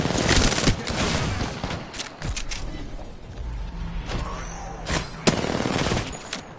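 Gunfire in the game Apex Legends comes as bursts of rapid shots and sharp cracks over a dense, noisy battle background, loud and close, with a few mechanical clicks between volleys.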